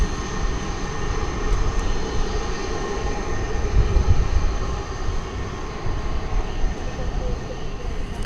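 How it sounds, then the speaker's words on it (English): An Airbus A300 jet at DFW Airport gives off a steady, broad roar of engine noise with a constant rumble and hiss throughout, at moderate distance, with no talk over it. "So is this our second or our third A300 tonight?"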